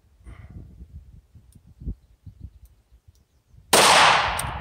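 A single loud, close gunshot from a compact .38 Special handgun firing Remington Golden Saber ammunition cracks sharply and then decays, following several seconds of soft thumps and handling clicks.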